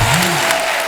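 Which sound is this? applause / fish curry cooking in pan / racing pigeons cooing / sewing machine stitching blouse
applause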